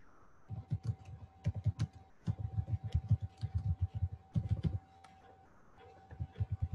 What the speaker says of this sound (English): So now I am just typing anything.